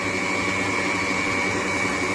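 An Ariceck N4 plant-based milk maker runs continuously, a steady loud whirring motor drone with a constant tonal hum, close and uninterrupted.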